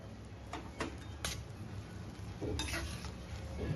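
A spoon stirs cardamom powder into a thick amla and jaggery preserve in a pan, giving a few soft scraping strokes and light clinks over a faint simmering sizzle.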